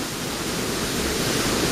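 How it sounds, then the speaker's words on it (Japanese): Sanju no Taki waterfall in Noto, Ishikawa, a dense, steady roar of falling water, close and loud, filling the short stretch with no voices. "あ、やっと見つけました三重の滝。"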